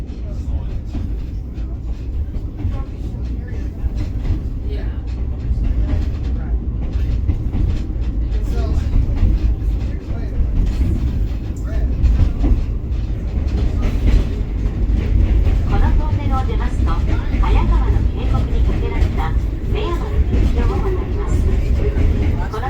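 A train in Japan bound for Odawara rumbles along its rails with a steady low roar and faint rhythmic clatter, continuous and fairly loud throughout, with some indistinct voices in the background.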